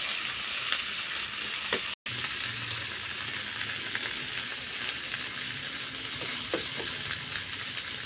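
Tomatoes cooking in a pan for bagoong alamang shrimp paste, giving a steady, close hissing sizzle throughout, with occasional faint stirring clicks and one brief dropout.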